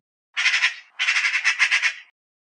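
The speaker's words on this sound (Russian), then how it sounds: "Сорока." A magpie's harsh chattering call from a children's cartoon about birds, two rapid rattling bursts, the second longer, heard alone and close.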